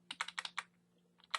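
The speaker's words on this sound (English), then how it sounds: "use your arrow keys to kind of get them centered" Computer keyboard arrow keys are tapped in quick, light presses, a cluster of five or six clicks, a short pause, then two more, close and quiet with no talk.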